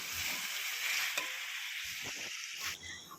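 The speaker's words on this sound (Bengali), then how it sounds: "মাংসটা অল্পই ছিল, আসলে আগের দিন এনেছিল অনেকটা বলে আগের দিন অল্প করে তুলে রেখেছিলাম, সেইটাই কষিয়ে নিচ্ছি" Meat is sautéed and stirred in a pan, giving a continuous bright sizzle with a few soft scraping stirs, close and moderately loud.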